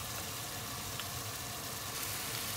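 Potatoes frying in hot oil for a Pakistani-style chicken biryani: a dense, steady sizzle that stays constant and fairly loud throughout, with no voices.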